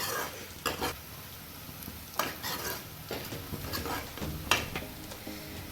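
Onions frying and being stirred in a pan until brown for homemade palak paneer, with a steady sizzle and repeated scraping and clinking of a utensil against the pan, close and without talk.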